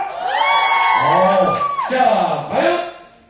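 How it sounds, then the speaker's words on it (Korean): A fan-meeting audience bursts into cheering and shouts, a sustained swell of voices lasting several seconds with a host speaking over it. "박수와 환호성 부탁드리겠습니다"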